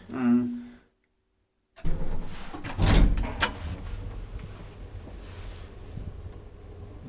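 An old Valmet-Schlieren traction elevator door in a Vantaa apartment building slides and bumps shut: a sharp knock, then a heavier clatter followed by a low, fading rumble from the lift.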